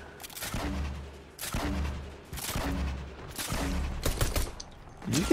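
Gunfire in the Fortnite video game comes in repeated bursts of rapid shots with short gaps between volleys, close and loud throughout, with no talking.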